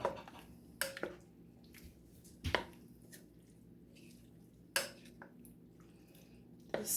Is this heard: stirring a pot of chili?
yes